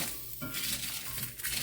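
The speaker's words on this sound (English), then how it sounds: "this dry roasting, since I started from a cold pan, is taking a little time" Whole coriander, cumin and dried chili dry roasting in a pan give a soft, close crackle and sizzle, broken by gentle scraping stirs, with no voices.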